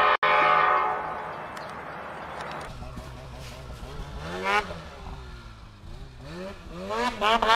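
A train horn sounds as a rail car rumbles past. Afterward, rising and falling tones carry over steady background noise.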